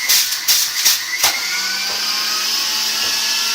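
A kitchen juicer grinding vegetables such as peas, ginger, apple and celery, a steady motor whine with a few short bursts at the start as produce is pushed through, then a continuous even drone.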